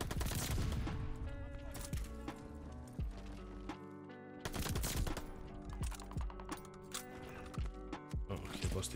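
Rapid automatic gunfire rattles in sharp, dense bursts during a Call of Duty Vanguard gunfight, loud and close, with a brief lull midway before the shooting resumes.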